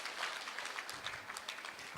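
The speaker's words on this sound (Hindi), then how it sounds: "देखो ताली बजा दो" A group of people at a meditation session clap their hands, a faint, scattered patter of applause, rather distant and soft, continuing for a couple of seconds with no talk over it.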